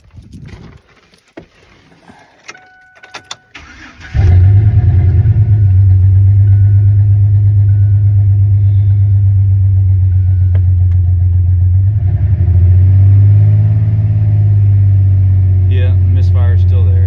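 An old 2005 car engine cranks and catches after a distributor replacement, then idles loudly and steadily with a rhythmic misfire pulsing through the idle, after a few clanks of handling beforehand.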